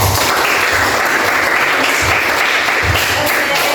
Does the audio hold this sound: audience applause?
yes